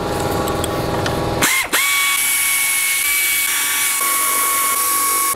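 A loud, high-pitched power tool whines steadily after a brief rattling start, briefly dropping then spinning back up to a constant drone, used while servicing a 2005 EZGO TXT gas golf cart.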